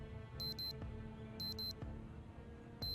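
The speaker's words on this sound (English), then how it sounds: "Is that my alarm?" An alarm clock in the survival game Project Zomboid rings in repeated short bursts of high beeping, three clusters spread across the moment, over a low background hum of game ambience.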